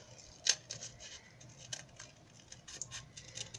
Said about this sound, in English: all I'm going to do is take my scissors and cut this out